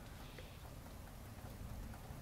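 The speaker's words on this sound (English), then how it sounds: "And it's raining," Steady rain pours in the mystery game Murder Most Misfortunate, a dense, even hiss of falling drops with a low rumbling undertone that holds without a break.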